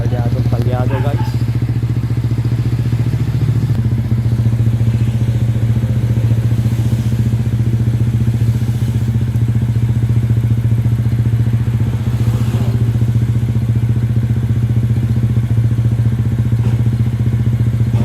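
An idling motorcycle engine runs unevenly and misfires after its carburetor has been cleaned, a steady close low drone with occasional stumbles and clattering, while someone talks.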